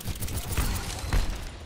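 Overwatch weapon fire comes as a quick, dense rattle of shots, with a couple of heavier thumps standing out, all fairly loud across a short burst.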